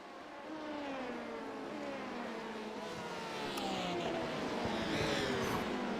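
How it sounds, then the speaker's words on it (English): A pack of LMP2 prototype race cars streams past GTE cars at Spa in a racing video game, engines whining and rising in pitch as they pass in a steady, fairly distant roar. "Here comes the rest of the LMP2s streaming through the GTE pack."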